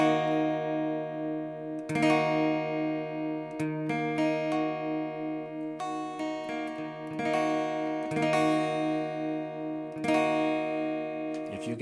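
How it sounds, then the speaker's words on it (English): A minor chord strummed on guitar, repeated several times with sharp attacks and ringing sustains, plus a few single plucked notes between strums, close and clear with no talking. "If you guessed minor, you are correct."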